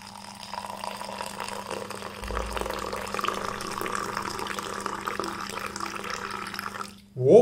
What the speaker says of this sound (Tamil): இப்போ பால் ஊற்றலாம்.